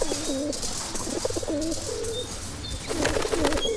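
Pigeons coo inside a bus decorated with vines, a run of repeated throaty coos that are fairly faint, with a bright burst of cooing and chirping near the end.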